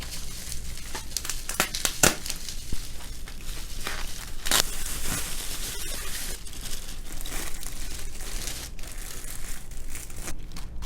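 Plastic bags sealing a WIO-B1T transmitter and WIO-B1R receiver are opened, giving a close, continuous crinkling and crackling with a few sharper tearing snaps, and no voices.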